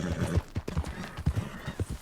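Horse hooves clip-clop in a steady, fairly close rhythm as a rider travels through familiar territory in the western game Red Dead Redemption 2, with a few soft snorts mixed between the beats.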